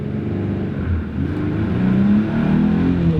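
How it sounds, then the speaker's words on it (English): A heavy older truck's engine revs up under throttle, a steady loud low rumble that climbs in pitch and strength over a few seconds, close by with no talk. "let's give it a little gas here and see what it can do."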